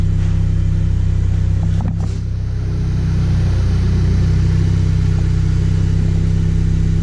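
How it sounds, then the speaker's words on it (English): Honda S2000 widebody engine idling steadily while the gearbox is shifted through each gear, a constant low engine hum with a brief clunk near two seconds and no voices. "I'm going through all the gears, leaving it in each gear for 5 seconds so fluid goes inside the synchros."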